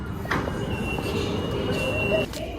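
Steady rumble inside a Delhi metro train, with a faint high whine and a brief metallic squeal near the end, under soft voices.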